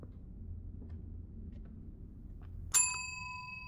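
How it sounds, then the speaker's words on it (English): A single bright bell strike rings out once after a quiet stretch of low room rumble, its clear metallic tone decaying slowly over the final second. "Ring the bell."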